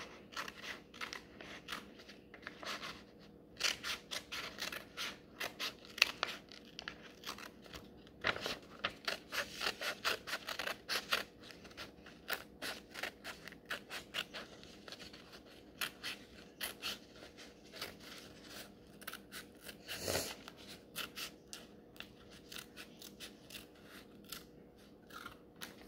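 Scissors snip through paper in a long run of quick, irregular cuts, close and fairly quiet, with brief pauses between strings of snips and no voices.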